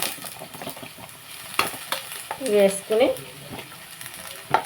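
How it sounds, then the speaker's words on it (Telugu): Chopped onions and green chillies sizzle and crackle in hot oil while being stirred in a pan, with steady frying hiss and a few louder bursts of sizzling and spoon scrapes. "నూనె కాగిందండి. ఇప్పుడు ఇందులోకి ఉల్లిపాయలు వేసుకున్నామండి."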